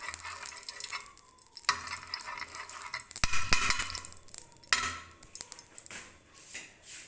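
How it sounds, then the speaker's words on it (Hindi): A burger browning in a pan with a little oil, giving a close, steady sizzle with scraping and clattering of a utensil on the pan partway through, and no talk. "इस साइड से थोड़ा थोड़ा हल्का सा ब्राउन कर लेना। थोड़ा सा ऑयल डालेंगे।"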